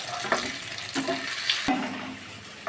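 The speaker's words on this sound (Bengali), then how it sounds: "আলুগুলো নাড়াচাড়া করা হচ্ছে তেলের মধ্যে" Potatoes frying in oil are stirred with a utensil, giving a steady near sizzle marked by a few sharp scraping clicks at uneven intervals, with no talk.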